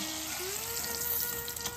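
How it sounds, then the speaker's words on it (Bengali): Eggplant pieces fry in hot oil with a continuous, dense sizzle that stays steady and close throughout, with no speech. "বাকি বেগুনগুলো ভেজে নিচ্ছি।"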